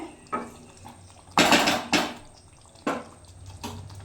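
A metal lid clatters onto a cooking pot of butter chicken, giving several sharp, close clanks and scrapes, loudest around the middle, with lighter taps and faint kitchen clinks between them and no talking.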